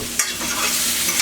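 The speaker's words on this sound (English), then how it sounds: "Give them a little toss so they all get coated in the oil." Chopped onion gets tossed in oil in a pan over low heat, a brief close clatter of stirring over a soft, steady sizzle.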